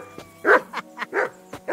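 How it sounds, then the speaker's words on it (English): Dog barking in a series of four or five short, sharp barks spaced about a quarter to half second apart, fairly close and clear, with no talk over them. "Call that dog to heel."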